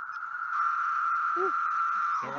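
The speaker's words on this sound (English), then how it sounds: "you see the cicada singing?" A cicada sings a steady, unbroken buzzing drone through the whole stretch, loud and close, with brief bits of human voice sounding faintly underneath.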